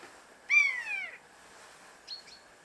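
A buzzard calls outside a woodland photography hide in Ireland, one clear descending mewing cry followed by a fainter, shorter call, heard fairly close in quiet surroundings.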